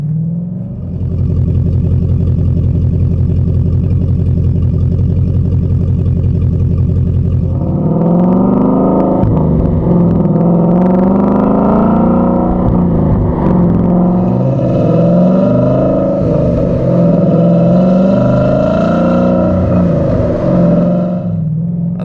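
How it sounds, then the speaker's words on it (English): A 2015-2017 Ford Mustang GT with a Gibson 3-inch cat-back exhaust idles with a deep, rumbling, steady lope, then swells into a louder, throatier drone as the engine revs and the car drives. "it gets a little lope to it in the exhaust, and then when you drive it, it has that nice, deep, solid tone"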